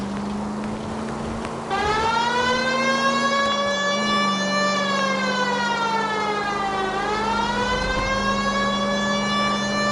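Wailing emergency siren in a PS4 video game, a steady rising and falling electronic tone over a low engine hum, loud and continuous.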